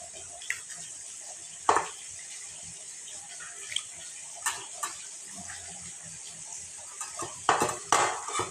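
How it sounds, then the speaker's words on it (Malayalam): Soft splashes as tuna pieces go into boiling curry, with sharp clinks of a utensil against the pot ringing out intermittently over a steady simmering bubble, busier near the end. "തിളച്ച അരപ്പിലേക്ക് നമുക്ക് ചൂരയുടെ പീസ് ഇട്ട് കൊടുക്കാം"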